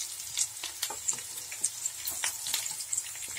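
Pieces of chicken fry in coconut oil for a Kerala-style chicken kondattam, crackling and sizzling steadily with scattered sharp pops, close and fairly quiet.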